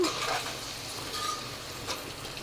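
A spoon stirs softened tomatoes in a pan for a chicken cauliflower curry, giving soft scraping and wet sloshing over a steady frying sizzle, close and fairly quiet, with no talking.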